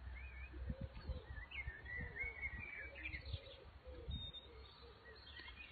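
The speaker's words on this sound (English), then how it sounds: "I can hear the birds that are behind me." Birds chirping and cooing outdoors, soft and somewhat distant, over a low steady rumble of background noise.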